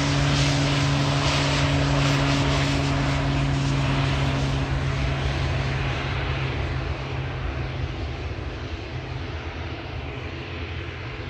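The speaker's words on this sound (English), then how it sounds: "So the next plane we're going to see is Aer Lingus EI-45, Manchester to New York's JFK Airport" An Aer Lingus airliner at Manchester Airport, bound for New York JFK, roars steadily and loudly with a broad jet rumble and droning engine tones that ease off slightly as it passes, with no talking.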